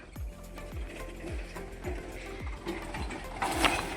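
A steady mechanical rattle with regular knocking thuds about twice a second, a tractor seed drill sowing groundnut on stony ground, clattering along with no voices.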